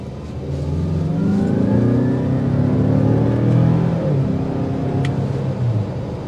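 A 2023 Mazda CX-5 Turbo accelerates hard in sport mode from about 20 mph, its turbo engine rising steadily in pitch through the gears as a loud, close cabin rumble with no talk.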